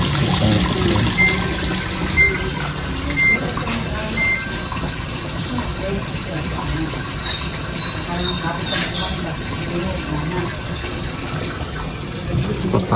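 A washing machine drains water on its own, a steady rushing, gurgling flow heard close by with faint background noise.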